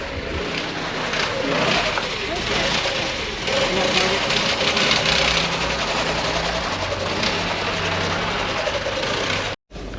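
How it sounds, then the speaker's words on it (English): A drifting go-kart engine buzzes at Texas Motor Speedway during Fuel Fest, a continuous nasal drone that rises and falls with the throttle over steady background noise, with people talking nearby. "All right, I'm about to record James going in these drifting go-karts."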